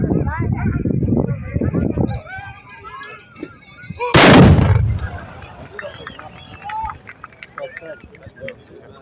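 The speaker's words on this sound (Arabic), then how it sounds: "ضربة المقدم جمال العزوزي جماعة راس العين" Tbourida horsemen fire their gunpowder muskets together in a single loud, explosive volley at a traditional Moroccan fantasia event. A voice announces before the volley, and crowd and announcer noise follows it.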